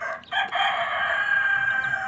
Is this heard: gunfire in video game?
no